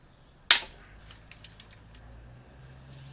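A torque wrench used as a breaker bar on bolts of a five-cylinder engine gives one sharp loud crack as a bolt breaks free, followed by a few faint clicking ratchet ticks.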